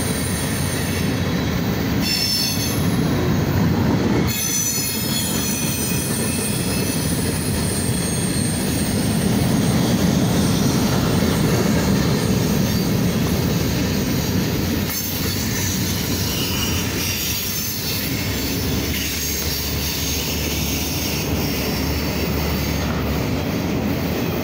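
Outbound Norfolk Southern freight train passing close by, a loud continuous rumble of rolling cars and wheels with squealing flanges and clickety-clack joints throughout, steady and sustained for the whole stretch.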